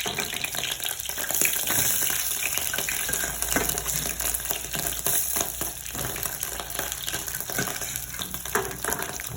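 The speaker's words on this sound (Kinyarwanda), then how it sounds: "Tugiye gukaranga inyama zacu." Meat frying in oil in a pan, a steady dense sizzle and crackle with occasional stirring scrapes, loud and continuous throughout with no talk.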